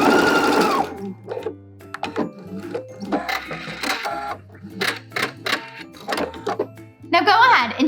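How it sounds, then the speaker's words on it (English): A sewing machine backstitches along a dress seam in short bursts of rapid mechanical stitching, loud and close, separated by brief pauses while someone talks. "we need to make sure that we blend into it and backstitch."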